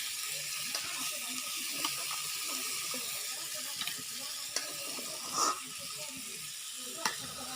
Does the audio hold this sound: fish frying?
yes